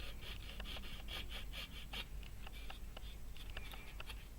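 A hand file rasps across a small part of a Star Wars TIE fighter model, a quick run of short, close strokes in a steady rhythm, fairly faint over a low background hum.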